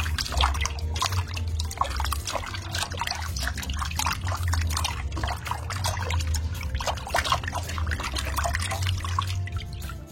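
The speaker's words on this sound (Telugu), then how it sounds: "ఇప్పుడు వాటర్ వేసుకొని బాగా శుభ్రం చేసుకోవాలి" Fish are washed in water inside a vessel, making continuous splashing and sloshing with quick, irregular watery bursts over a low steady hum.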